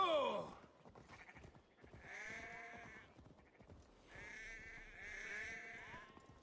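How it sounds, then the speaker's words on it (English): Sheep and lambs bleat in Assassin's Creed Valhalla, with several wavering calls overlapping at moderate distance over quiet game ambience. "So many lambs and sheeps."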